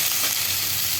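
Whole cumin seeds and slit green chilies tempering in hot oil in a home kitchen, a dense, loud, continuous sizzle filling the short moment without speech.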